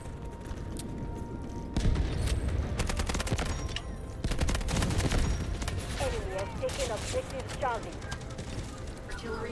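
Rapid gunfire from the CI-19 in the Delta Force video game, steady automatic bursts running throughout under in-game ambience and someone talking over it.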